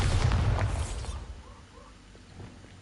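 A loud, booming magical blast, the Bombarda spell going off in a Dark Lord fantasy video game, bursts out in the first second and fades into a quieter, rumbling tail.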